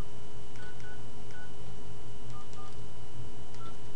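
Short phone keypad tones sound in a sparse, irregular sequence as a Bluetooth pairing PIN is entered on a cell phone, each beep brief and clear over a steady low hum, with no talking.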